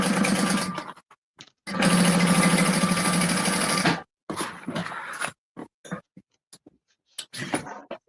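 Sewing machine top stitching a fabric bag, running in a long loud burst, then several shorter start-stop bursts of rapid mechanical whirring, close up, with no voices.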